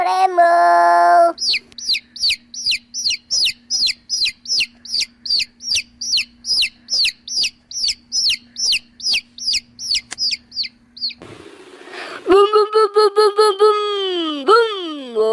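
Several chickens cluck and squawk in a steady, rhythmic series of loud, close calls, with a few different hen voices breaking in near the start and end.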